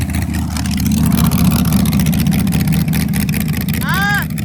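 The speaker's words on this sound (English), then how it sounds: "I either heard second gear or that was him letting off the throttle and going back on" A race car at high speed on a track, its engine a loud steady low roar with wind noise throughout and a brief rising pitch sweep near the end as it shifts gears.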